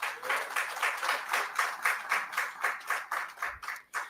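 A crowd claps in steady applause, a dense rhythmic patter of many hands that continues evenly throughout.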